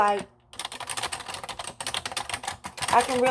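Rapid typing on a computer keyboard with long fingernails during data entry, dense irregular clicks and clacks running steadily after a brief pause, close and fairly loud.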